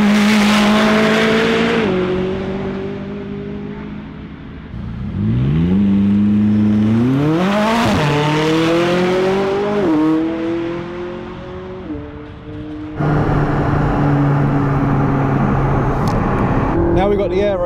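McLaren 675LT at Goodwood accelerating hard down the straight to about 150 mph, its engine note climbing loudly through gear changes in a close, continuous roar.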